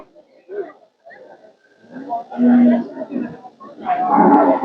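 Cattle low and moo several times amid crowd noise and people talking at a busy livestock market.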